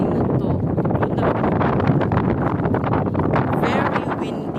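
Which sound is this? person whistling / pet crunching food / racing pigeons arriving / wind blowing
wind blowing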